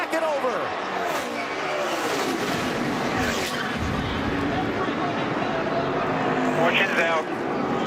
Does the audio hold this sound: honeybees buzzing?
no